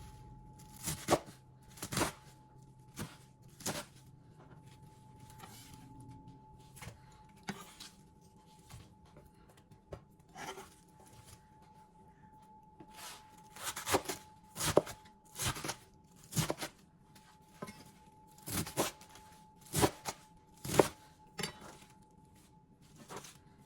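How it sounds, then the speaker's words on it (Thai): A knife chops vegetables on a cutting board in sharp, irregular thuds, sometimes single strikes, sometimes quick runs, close up with a faint steady hum behind. "แล้วก็หั่นแบบพอดีคำนะคะ"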